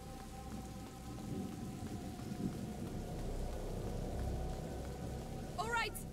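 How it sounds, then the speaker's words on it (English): A video-game thunderstorm: steady rain hisses continuously with a low rumbling of thunder underneath, moderately quiet, and a brief whistling tone near the end. "The storm will drown out our voices."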